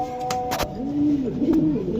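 Racing pigeons coo in low, rolling, repeated phrases nearby, with a few sharp knocks and rustles between calls.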